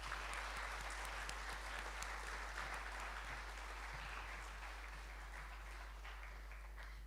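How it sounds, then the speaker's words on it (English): Sustained applause from a school audience at a sports and cultural prizegiving in a hall, steady dense clapping at moderate distance that fades slightly toward the end. "Round of applause."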